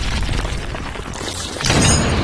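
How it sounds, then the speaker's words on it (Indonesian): A heavy gun fires in an action film, a dense low rumble that swells into a louder booming burst near the end, with no talk over it. "Kali ini, Ah Jing menggunakan senapan beratnya."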